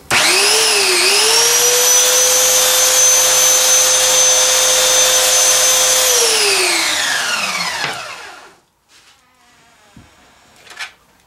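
A belt sander fitted with an 80 grit belt spins up to a loud, high, steady whine, holds it for several seconds, then winds down into near silence broken by faint knocks.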